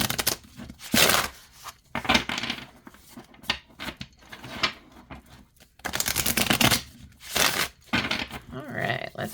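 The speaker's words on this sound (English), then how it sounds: "All right, let's see how it shuffles. It is a little stiffer to shuffle, but not bad." A Modern Goth tarot deck shuffled by hand, a slightly stiff new deck giving bursts of riffling card flutter and soft slaps separated by short pauses, close and fairly quiet, with no talking.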